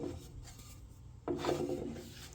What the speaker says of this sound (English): Now I'm gonna go ahead and use a bandsaw to cut this